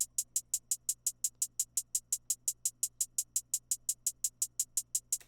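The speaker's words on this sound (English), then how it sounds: "It's a two-step hi-hat pattern." A rage-beat hi-hat plays a steady two-step pattern, about 28 crisp, bright ticks in even rhythm, alone with no voices.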